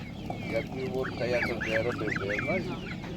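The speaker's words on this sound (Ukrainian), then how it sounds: "Така підрочна гуска по 300 гривень." A half-grown goose at an animal market in Ivano-Frankivsk honks repeatedly in close, nasal bursts, with other fowl and faint market voices behind it.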